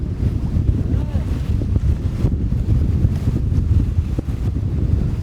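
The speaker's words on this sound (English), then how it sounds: "Because it's freaking windy." Strong wind battering a boat during a cyclone, a loud, constant low roar and microphone buffeting with churning gusts that never let up.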